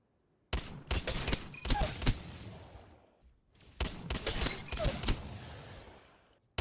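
Two rapid bursts of the EVA-8 shotgun in the Apex Legends video game with no bolt attachment, each a string of sharp, loud blasts separated by a brief pause, with no talking.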